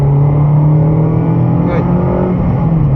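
A race car's engine drones steadily and close at Broadford race track while the throttle is eased open, a smooth continuous tone with a voice talking over it.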